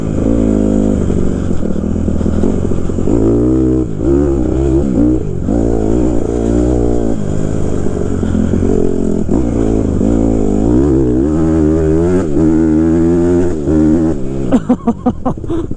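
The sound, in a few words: Honda CRF 150R dirt bike engine revving during test ride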